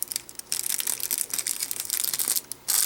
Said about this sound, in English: I'm going to put them back in the resealable package here